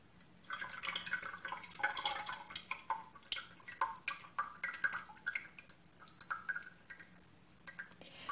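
Water drips and splatters off orchids lifted out of an Aktara insecticide solution, a quick run of small close taps and trickles that thins to sparse single drops.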